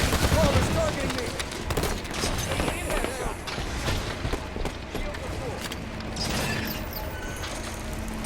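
Gunfire and battle noise from the Halo 5 video game, a dense, continuous mix of shots, mechanical clanks and creaks throughout, with voiced game callouts heard over the action.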